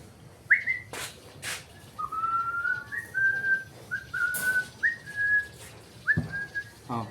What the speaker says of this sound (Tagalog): Unahin mo natin si Parrot. Si Parrot. Parrot na makulit.